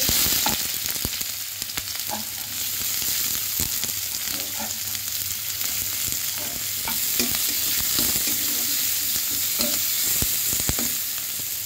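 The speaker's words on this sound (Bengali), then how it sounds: "তেল দেবো, কাঁচা লঙ্কার পেঁয়াজ দিয়ে দিচ্ছি" Onion and green chili fry in hot oil with a steady, bright sizzle that fills the whole stretch. Faint scrapes and clinks of stirring sit under the constant hiss.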